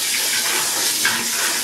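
Water sprays steadily from a hose with a shower nozzle into a terrarium, a continuous close rushing hiss with no pauses and no voices.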